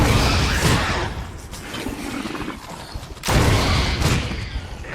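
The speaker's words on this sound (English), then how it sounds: "so it took 2 explosive rounds to defeat a hunter" Explosive rounds fired at a hunter in the Resident Evil Remastered video game: two loud, booming blasts about three seconds apart, each with a dense crashing burst and a long noisy rumble that decays between them.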